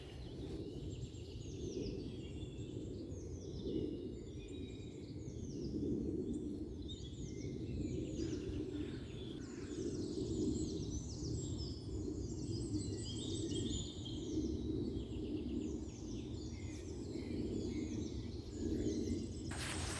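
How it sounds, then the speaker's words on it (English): Birds sing and chirp faintly outdoors, with high twittering calls scattered throughout, set over a low, steady background rumble. "I got carried away listening to the bird song"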